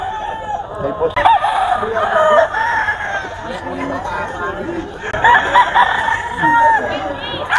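Gray gamecocks crowing repeatedly at a busy rooster market in Bocaue, with clucking birds, crowd chatter and someone talking over the loud, overlapping calls.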